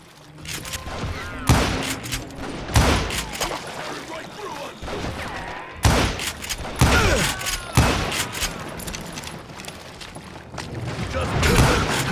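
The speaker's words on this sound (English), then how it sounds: "a fusillade of bullets come raining down from on high" A fusillade of gunfire in Call of Juarez Gunslinger, set in Juarez, Mexico, 1868: sharp, loud shots crack in irregular bursts over echoing ambience, while a voice narrates over parts of it.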